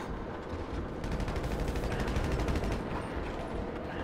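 Rapid bursts of automatic gunfire from Grand Theft Auto V Online, a dense crackle of overlapping shots that keeps going steadily and loudly for about four seconds with no talking.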